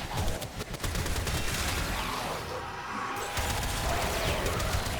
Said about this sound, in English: And since it's an AoE weapon, it clears rooms pretty well.